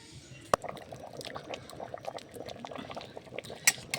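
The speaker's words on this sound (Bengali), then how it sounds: "ঢাকা দিয়ে দিই, ফুটুক হলুদটা।" Turmeric simmers in a covered pot of water for vegetable khichuri, giving a soft, continuous bubbling with scattered small pops and a couple of sharper clinks.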